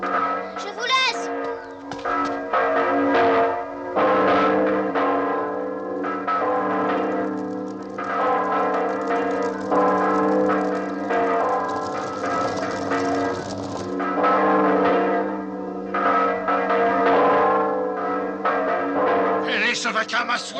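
Bells ring in the video game Rody le petit Cid, a layered tonal chiming that goes on for twenty seconds, mixed with game music and what sounds like bleating livestock.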